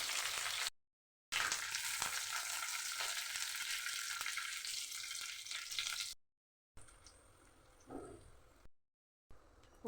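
Mustard seeds, green chillies and curry leaves sizzle loudly in hot white oil, a dense steady crackle that is broken by short silent gaps. It turns quieter and sparser toward the end, with a light stir.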